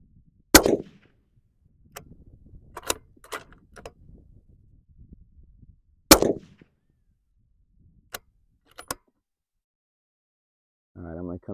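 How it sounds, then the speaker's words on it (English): A rifle at a long-range shooting session fires two sharp, loud shots several seconds apart, separated by quieter clanks and brief metallic rings and followed by a short low hum, with no talking. "we're going to shoot 3 round groups until I feel confident in my 0"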